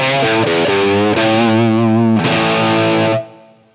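Distorted electric guitar run through a Line 6 Helix modeler using its default Shure SM57 dynamic cab mic placed one inch from the cone, with sustained chords changing every second or so and a brief sharp cutoff at the end, loud with no talking.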